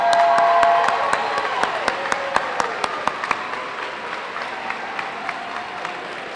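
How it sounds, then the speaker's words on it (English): Audience applause for the winners at a district PTA children's banquet, a dense steady clapping that fades over several seconds into a few scattered claps, with faint crowd murmur. "One more round of applause for all of our winners this evening,"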